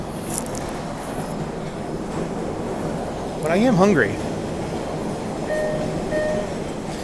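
A subway train rolls along its track, a steady low rumble with a brief squeal of wheels midway, while people talk nearby throughout.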